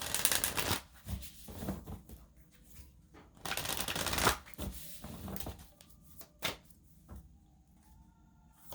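Oracle cards being shuffled by hand in several rustling bursts with short pauses between, close and moderately loud, with no talking.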